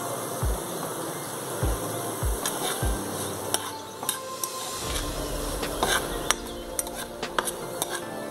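Vegetables are lightly fried and stirred in a pan, giving a soft background sizzle broken by quiet scrapes and sharp metallic clinks of a utensil against the pan at irregular intervals.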